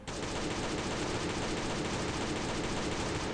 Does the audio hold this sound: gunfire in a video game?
yes